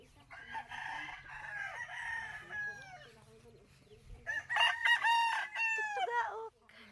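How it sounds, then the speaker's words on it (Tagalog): A breeder's rooster on a small farm crows twice, loud and close, the second call longer and stronger, with a quieter cluck-like stretch between them. "Tugaok."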